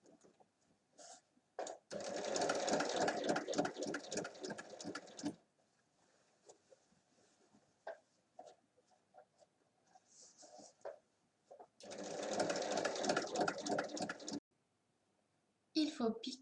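A sewing machine stitches fabric for a bucket bag in two close, rapid bursts of mechanical chatter. Quieter gaps fall between them, where someone talks in French and small handling sounds are heard.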